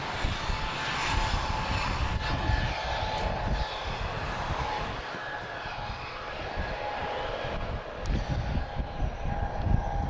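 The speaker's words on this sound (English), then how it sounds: "2 A330s pushed back" Two Airbus A330 widebody jets pushing back at Lisbon Airport on a cold evening, giving a steady, broad engine roar at moderate distance with a faint high whine running through it, continuous from start to finish.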